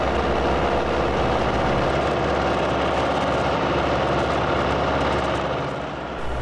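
A ski plane lands on an unplowed snowy runway at Galt Airport, its engine giving a loud, steady, low droning rumble throughout that eases slightly at the very end.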